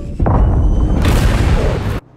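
A loud ship-breaching explosion in Marauders hits almost at once with a heavy boom, rumbles on, then swells again into a second blast before cutting off sharply near the end.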